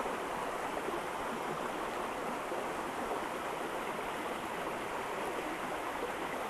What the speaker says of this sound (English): So enjoy the sound of the waterfall.